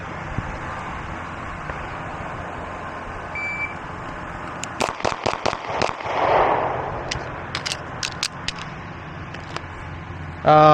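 Six shots from a Beretta PX4 Storm Compact Carry 2 pistol, fired in a quick run of sharp cracks at a range, with steady background noise throughout.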